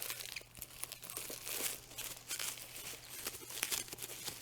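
Packing material crinkles and rustles close up as a parcel is wrapped and packed, a busy run of crumpling and crackling bursts with no talking.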